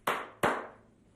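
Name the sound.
hand claps to switch the Clapper device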